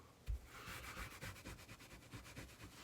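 A brush scrubbing a stain out of the carpet lining an RV ceiling, quick, close, rhythmic rubbing strokes in steady back-and-forth succession, soft overall, after one brief knock at the start.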